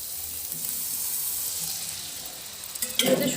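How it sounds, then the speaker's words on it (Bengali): Spices frying in a pan sizzle steadily with a soft hiss; near the end, water poured in brings a louder, sharper burst of sizzling. "এর মধ্যে একটু সামান্য জল দেবো।"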